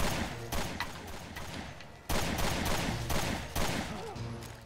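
Rapid video game gunfire in Resident Evil Revelations 2, a few bursts of dense, loud shots with brief pauses between them, and no talking over the shots.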